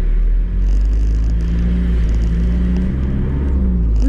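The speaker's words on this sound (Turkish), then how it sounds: "arabanın sesinden biraz ses bozulmuş olabilir" A car drives past on Hal Street near a greenhouse, giving a loud low rumble and whir that dominates the recording, steady and close throughout with faint rustling above it.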